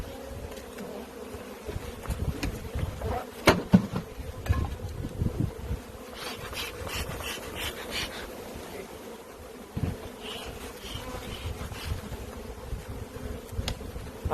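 Honey bees in Michigan buzz steadily around an open hive during brood frame removal, a dense, continuous hum close by with occasional louder passes as individual bees fly near.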